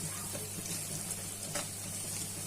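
Spice paste fries and is stirred for a pangas fish dopeyaja curry, making a dense, steady sizzling hiss close up that stays even throughout, with no voices.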